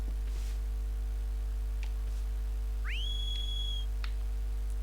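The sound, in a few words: whistle to call the horse Agro in Shadow of the Colossus video game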